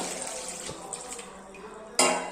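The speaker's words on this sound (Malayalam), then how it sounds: "നമ്മൾ ഇതിലേക്ക് ഇത് മുങ്ങിക്കിടക്കത്തക്ക പോലൊക്കെ വെള്ളം ഒഴിച്ചു കൊടുക്കുക" Water pours from a tap into a bowl of vegetables in a home kitchen, a steady close splashing rush that ends in a louder, brighter gush near the end.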